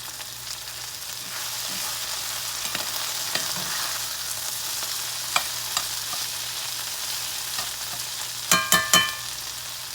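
Food frying in a very hot iron skillet, a steady close sizzle throughout with occasional light scrapes and a quick cluster of sharp clinks near the end, no voices.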